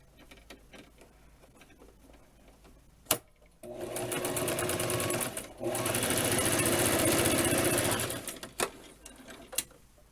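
A sewing machine straight-stitches the folded hem of a Barbie doll dress, running in a steady fast whir for several seconds, briefly pausing, then resuming before stopping, with a few clicks around it.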